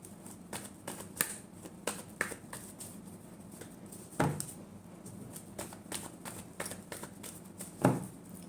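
Tarot cards being shuffled by hand in a quiet room, with a steady run of light riffling clicks and a few sharper snaps and taps standing out over faint background noise, no talking.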